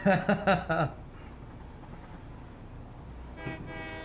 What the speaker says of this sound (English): It's a pretty good train horn too.